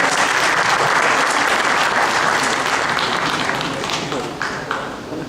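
Sustained applause from an audience at a poetry recital, loud and dense at first, then slowly thinning toward the end, with some voices mixed in.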